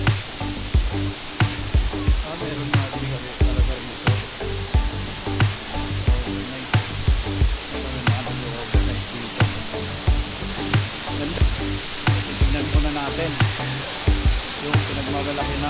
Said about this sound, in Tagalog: Batlag Falls. Ganda.